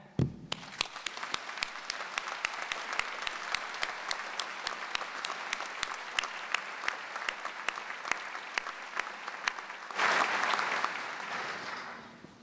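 Graduates applauded at a fall college commencement ceremony: a large audience clapping steadily in a big hall, with sharp individual claps standing out near the front, swelling louder toward the end before fading.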